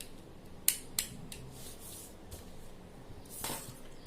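A cutter blade slices across a single sheet of paper guided by a scale, giving a few soft scraping strokes with two sharp ticks near the start, quiet and close with no talk.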